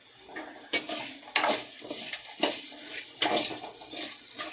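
A plate lid clatters off a pan of snake gourd frying in oil for a South Indian poriyal, giving several sharp metallic clinks and scrapes close by, with no talking.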